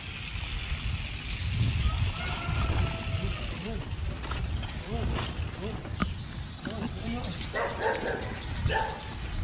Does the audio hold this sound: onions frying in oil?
no